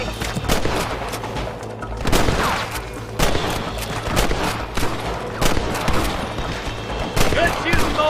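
Repeated gunfire crackles through a Red Dead Redemption gunfight, sharp loud shots in irregular bursts with some rapid strings, voices talking in between.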